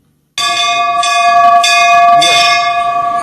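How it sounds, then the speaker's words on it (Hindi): Several temple bells in Mandsaur ring continuously and loudly, their bright metallic tones overlapping and sustaining, with fresh strikes swelling the sound a few times. "घंटियों की ये आवाज ही हमें आसपास मंदिर होने का एहसास कराती है"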